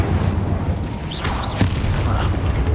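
Expulso spell blasts in the video game Hogwarts Legacy: a loud, continuous rumbling boom with dense low-end roar and a sharper crack midway, sustained throughout at close range.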